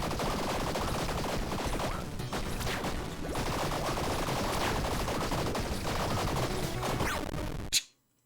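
Relentless gunfire and laser blasts from a Tiny Rogues dungeon fight, a dense, loud, continuous barrage of rapid shots and impacts lasting several seconds before cutting off abruptly.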